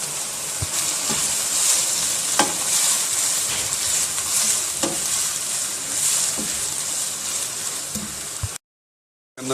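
Chicken mince sizzling in a pan with crushed tomatoes for qeema with capsicum, a steady loud frying hiss with occasional stirring scrapes, stopping abruptly near the end.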